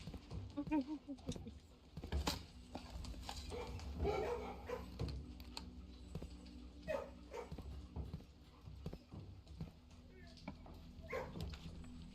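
Dog barking in the video game Blue Prince, a few short bark-like bursts scattered through the stretch over steady game music, with a person talking on and off.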